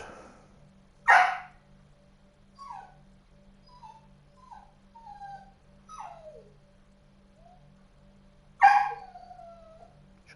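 A dog gives two sharp, loud barks about seven seconds apart, with softer whining and yelping cries in between, all over a faint steady low hum.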